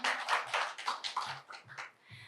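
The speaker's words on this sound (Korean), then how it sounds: "큰 박수 부탁드리겠습니다." Audience applause at a Korean social welfare center research presentation event, a brief burst of many hands clapping in an irregular patter at moderate distance, fading toward the end.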